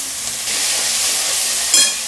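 Onions hit hot oil for clam sukka and sizzle in a steady, close hiss, with a brief sharper crackle near the end.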